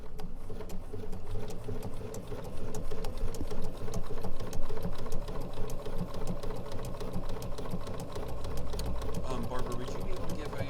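A sewing machine stitches continuously during ruler-guided machine quilting, a rapid even mechanical patter running under people talking throughout.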